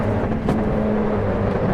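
Simulated Volkswagen Golf 8 R drifting in the Assetto Corsa EVO racing game, with a steady engine drone and tyre noise holding at a constant loud level throughout, no voices.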